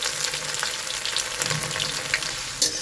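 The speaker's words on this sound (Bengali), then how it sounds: "এই আদা কুচিটা আমি তেলের মধ্যে দিয়ে দিচ্ছি পুরোটাই ফ্রাই হবে" Chopped ginger fries in oil, a close, dense crackling sizzle broken by intermittent stirring scrapes and a sharper clatter near the end.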